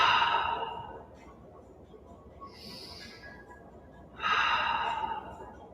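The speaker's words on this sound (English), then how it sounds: "Breathing in and breathing out." During a yoga flow, a person breathes deeply and audibly through downward facing dog, with a long exhale, a soft pause, a quieter breath, then another strong exhale, all close and without talk.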